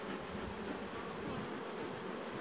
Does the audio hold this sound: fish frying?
no